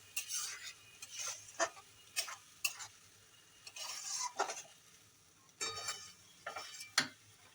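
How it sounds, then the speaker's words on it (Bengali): Sour yogurt for a katla fish curry being stirred with water in a bowl: a series of close, quiet spoon scrapes and clinks in irregular bursts, with pauses of near silence between them and no talking. "নাড়িয়ে নিই।"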